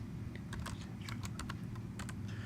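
Quick bursts of keystrokes on a computer keyboard as text is typed into a worksheet, steady clicking in short irregular runs, close and clear with no talking.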